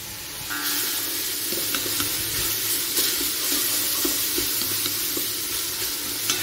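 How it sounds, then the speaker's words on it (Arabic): Onion frying in a pan for a fish and vegetable soup, a continuous close sizzle with soft scraping as it is stirred, steady and even with no talk. "حتى كتحمر لينا مزيان اولا كتشحر مزيان هاد البصله كتستمروا في التحريك بحال هكا"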